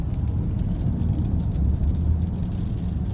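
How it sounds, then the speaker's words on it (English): Steady, loud rain falling outdoors during a tornado storm in Michigan, a dense continuous roar with a low rumble underneath and no voices. "It's starting to rain harder."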